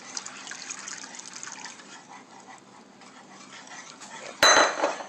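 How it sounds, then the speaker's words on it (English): Espagnole sauce being stirred in a pot: soft, steady scraping and liquid swishing, then a sharp metallic clank of a utensil against the pot near the end, with no talking. "Just stir it through."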